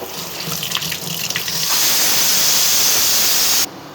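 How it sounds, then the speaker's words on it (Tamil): A tap runs hard into a sink as tamarind is washed, a loud close hiss of spraying water that swells midway and then stops abruptly. "இப்போ இந்த புளியை கழுவிக்கிறேன்"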